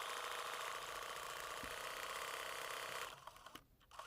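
A sewing machine runs steadily, stitching raw edge applique on fabric with a fast, even mechanical whir, then slows and stops near the end with a few soft clicks.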